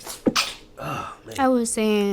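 One sharp, close sneeze bursts out right at the start, and a person talks immediately afterward.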